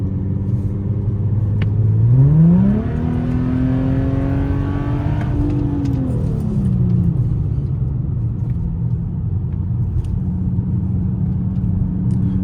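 Infiniti G37xs with a stock engine, coilovers and aftermarket wheels revving hard under acceleration, its pitch climbing steeply then holding a loud whine before easing off to a steady cruising drone, recorded close with no talking.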